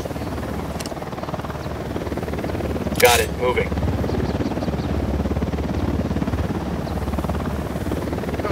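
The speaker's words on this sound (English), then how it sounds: "That chopper, stay low." A helicopter flies overhead in the video game Ghost Recon Wildlands, a constant droning rotor hum filling the scene while someone briefly speaks a short radio-style line.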